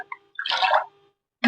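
Coconut sol kadhi is stirred in a vessel, giving a brief close liquid swish and slosh, followed by a quiet gap and the start of another splash.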